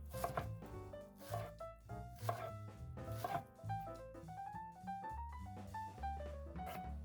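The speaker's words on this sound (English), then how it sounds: "I'm cutting some shreds of our iceberg lettuce." A knife chops rhythmically on a cutting board, steady crisp cuts shredding iceberg lettuce, with background music playing throughout.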